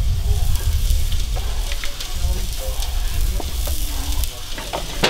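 Onions frying in oil in a home kitchen, a steady close sizzle with occasional stirring scrapes and clinks running throughout.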